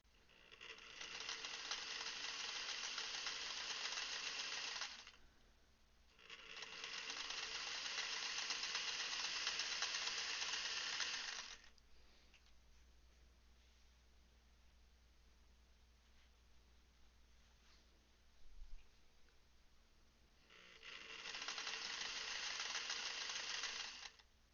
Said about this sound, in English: my mom taught me to sew on a vintage Singer sewing machine similar to this one.